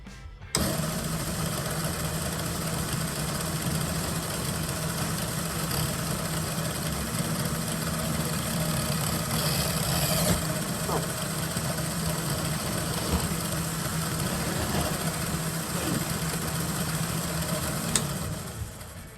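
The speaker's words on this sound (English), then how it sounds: "it's probably a good idea that I test if the motors actually worked" Electric drive motors on a homebuilt robot, the RS-Charlie, run steadily through a bench test, a continuous close whir with a low hum and a bright high whine, holding level with small swells and no voices.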